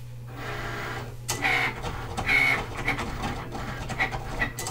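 A Cricut Explore cutting machine cuts vinyl in fast mode, giving a close mechanical whir over a steady low hum, with short bursts of higher-pitched whines as the carriage moves back and forth.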